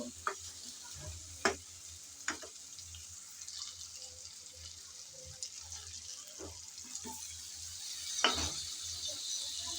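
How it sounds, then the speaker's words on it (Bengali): Green tomatoes are gently stirred into shrimp frying in a pan: a soft, continuous hiss of sizzling oil with scattered spoon clicks and scrapes, moderately faint. "কাঁচা টমেটো দিয়ে আলতোভাবে একটু নেড়ে চেড়ে মিশিয়ে নেব।"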